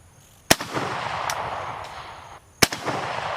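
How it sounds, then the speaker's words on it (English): AK-47 rifle with no muzzle brake or compensator firing single rounds: two sharp, loud reports about two seconds apart, each followed by a short echoing tail, with no talking. "Let's send some more rounds here."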